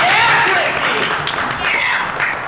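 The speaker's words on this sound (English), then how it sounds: "Can we clap?" Attendees at a city council meeting break into brief applause, a crowded patter of hands running throughout while a voice talks over it.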